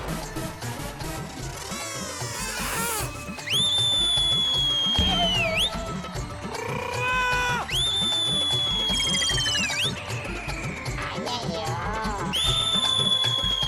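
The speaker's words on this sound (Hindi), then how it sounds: "अरे तू सीटी क्यों बजा रहा है?" A whistle blown in a comedy scene gives long, shrill blasts that slide up and down in pitch, repeated several times over busy background music and effects.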